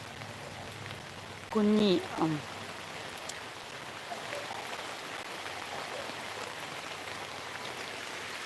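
Steady rain falls through a forest at midnight in Malappuram, a soft constant hiss of drops on leaves and surfaces, with a brief spoken word early on over the downpour.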